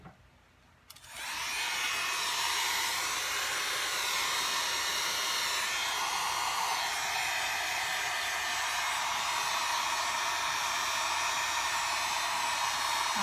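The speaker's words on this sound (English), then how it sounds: "And then I'm going to take and heat dry," A heat dryer blowing hot air to dry paint on a stencilled canvas switches on after a second of near silence and then runs as a loud, steady whoosh, close up and alone.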